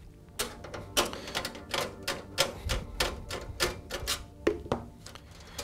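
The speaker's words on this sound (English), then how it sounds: "locate the free slot that you want to use and remove the backing plate from the side" A metal backing plate is worked free from a PC expansion slot on an open computer case. The result is a run of sharp, close clicks and snaps in an uneven, rapid rhythm, with no voice.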